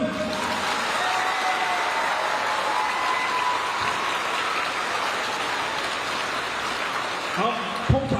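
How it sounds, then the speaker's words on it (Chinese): Thunderous audience applause fills a hall at the closing and awards ceremony of an elementary school teacher-student volleyball tournament, a continuous dense roar of clapping that holds steady for eight seconds before fading near the end. "还能够听到这么如雷贯耳的掌声"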